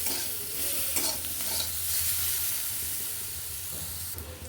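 Eggplant pieces salted and frying in oil in a pan, a close, steady sizzle and hiss with occasional stirring scrapes, fading slightly as the pan settles, no voices.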